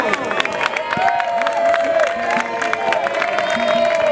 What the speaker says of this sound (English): Please give a nice round of applause for Nutso